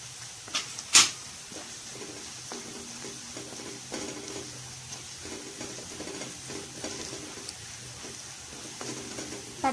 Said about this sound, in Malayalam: ഇതൊക്കെ ഒന്ന് നന്നായിട്ട് വഴറ്റിയെടുക്കണം.